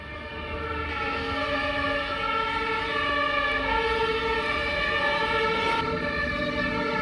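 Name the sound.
fire brigade siren in Stockholm street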